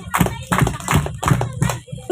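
An audience claps in short bursts during a clapping game at a parenting seminar, several quick rhythmic groups of claps repeating over a couple of seconds, close and clear.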